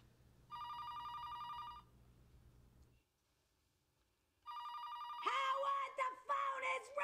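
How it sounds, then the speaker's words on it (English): Telephone ringing in a scene of The Big Bang Theory: two electronic rings separated by a pause, the second overlapped by a voice. "the phone is ringing!"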